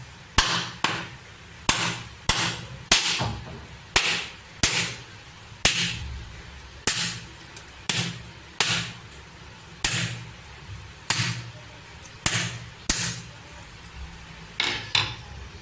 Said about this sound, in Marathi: नारळाला पहिले आहे ना आधी साईडने असं ठोकून ठोकून घ्यायचा